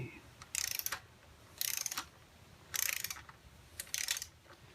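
A torque wrench set to 20 pounds ratchets while tightening a bolt on a British Customs fender eliminator install on a motorcycle, four close, bright bursts of rapid clicking separated by short pauses.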